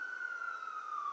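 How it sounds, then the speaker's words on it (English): A steady, sustained emergency vehicle siren wails in New York City, a single slowly sliding tone heard at a distance in the background, fairly faint and continuous. "you're probably going to occasionally hear some sirens in the background"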